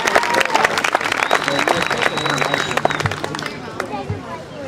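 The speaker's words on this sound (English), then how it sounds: "How about we give Christy a round of applause" Crowd applauding a presenter named Christy at a prize event, with cheering voices and chatter mixed into steady clapping that runs the whole stretch, loud and close.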